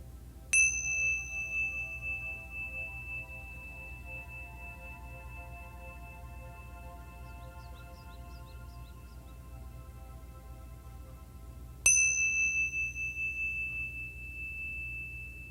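A bell is struck twice in a quiet children's mindful movement session, each strike a bright sharp ding with a long ringing decay, spaced about eleven seconds apart.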